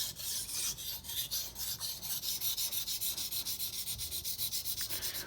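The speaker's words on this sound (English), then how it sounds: "When I sharpen the tip of the knife," A kitchen knife strokes back and forth across a wet water stone in a fast, even rhythm of close, gritty scrapes, with no talking.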